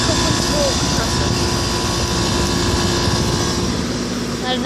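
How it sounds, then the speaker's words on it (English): A 1996 Rheem 4-ton central air conditioner runs with its Copeland scroll compressor and two-bladed fan on a GE motor, making a loud, steady, close whirring drone with a low rumble that continues without a break. "Got a nice compressor sound."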